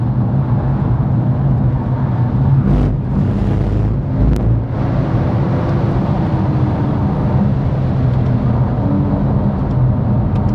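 A 2011 Porsche 911 Turbo S accelerating, heard from inside as a steady loud engine drone with wind and road roar that swells under throttle and continues throughout.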